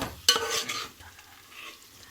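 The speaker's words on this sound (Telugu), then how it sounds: "పుదీనా కలిపేసుకుంటున్నామండి" A spoon stirs mint into khichdi in a pan: a sharp metallic scrape opens, followed by soft, brief scraping strokes that fade into quiet.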